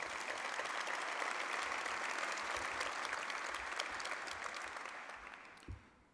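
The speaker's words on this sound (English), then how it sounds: "Please give them all a round of applause." An audience at a transit event in New York breaks into steady, full applause that holds for several seconds, then thins and fades out near the end.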